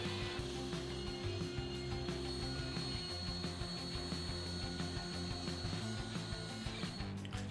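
A power tool with steady mechanical whirring and a ratcheting rattle works along the edges of a CNC-carved glass-impression piece, chamfering them, running continuously at moderate distance.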